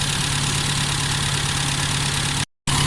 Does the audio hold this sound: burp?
no